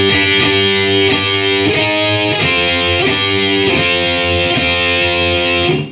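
Heavy distorted electric guitar chugs through a chunky riff, loud and steady with rhythmic palm-muted attacks, no voices.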